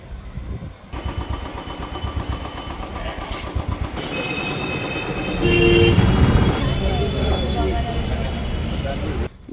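A scooter or motorcycle is kicked into life, its engine sputtering through a few uneven starting pulses before catching and settling into a steady, fairly loud idle close by, with street noise around it.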